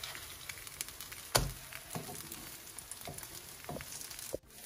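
Food half-frying in a pan over a gas flame gives a soft, steady sizzle with a few sharper crackles and a clatter near the start, fairly quiet and without talk.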